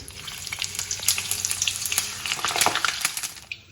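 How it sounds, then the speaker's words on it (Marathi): Slit green chillies frying in hot oil for a vada dish, giving a loud, continuous crackling sizzle with dense bursts of popping that fades out abruptly near the end; no one speaks. "आता ह्या ज्या मिरच्या आहेत त्याला मध्ये अशी चीर पाडून घेतलेली आहे, त्या आपण तेलामध्ये घालूया."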